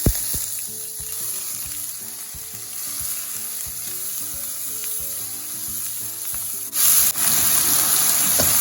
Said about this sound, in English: We're just sauteing this off, actually stir frying.